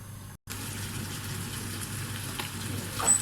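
Mixed vegetables sizzle and fry steadily in a pan for cauliflower with béchamel, a continuous close hiss after a brief silent gap, with no voices.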